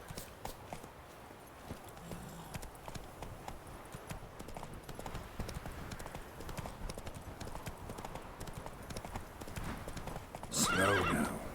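Roach the horse in The Witcher 3 clip-clops along in a steady rhythm of hooves, with a loud neigh near the end.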